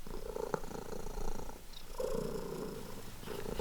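A cat purrs close up, a low, steady rumble with a soft, continuous texture, quiet and unbroken for the whole clip.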